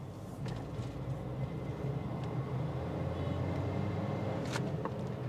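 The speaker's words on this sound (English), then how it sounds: "So you're probably wondering what 67 horsepower and 90 Newton meters of torque feels like. Well, let's give it some gas" Small-engined Suzuki S-Presso hatchback, 67 horsepower and 90 Nm of torque, pulling under throttle: a steady, fairly loud low engine and road drone heard from inside the cabin, with no voices.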